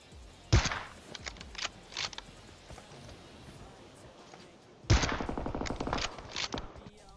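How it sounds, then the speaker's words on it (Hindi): Two rapid bursts of automatic gunfire from a PUBG Mobile match, sharp and loud, separated by a few seconds of quieter in-game ambience. "गोली चला रहा हूं और बहुत कम बर्बाद हो रही है गोली"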